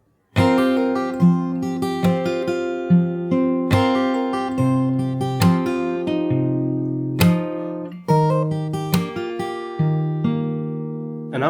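A slow fingerpicked acoustic guitar passage from a bridge, with individually plucked notes and occasional sharper chord attacks at an unhurried pace. It rings clearly and close up, with no voice.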